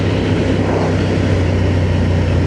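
A Honda 750 Transalp motorcycle engine drones steadily in 4th gear at about 85 km/h and around 4,500 rpm, a continuous close hum with wind roar and no pauses.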